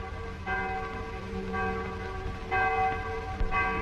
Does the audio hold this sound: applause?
no